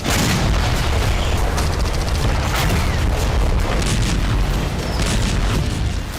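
Heavy, continuous booming and crackling blasts from military bombardment in Gaza, from Khan Younis to the Rafah crossing, pile up densely, loud and relentless, like a barrage of explosions with no pauses.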